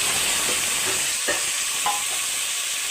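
Cumin, mustard seeds, curry leaves, tomato and onion frying in a pressure cooker for a potato curry, an even, loud close sizzle with a few soft stirring knocks and no speech.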